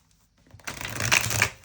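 Tarot cards being shuffled during a reading, a short soft riffle of card stock that swells quickly and ends after about a second, close and alone.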